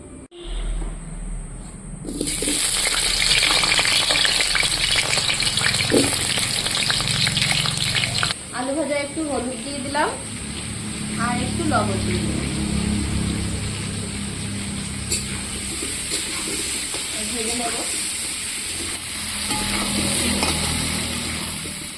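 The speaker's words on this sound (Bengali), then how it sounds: "এখন আমি তেল দিয়ে দেবো আলুগুলো ভেজে দেবো" Potatoes fry in hot oil in a kadai over a lit stove, a loud continuous sizzle close by, broken by scraping stirs of a metal spatula and clattering against the pan.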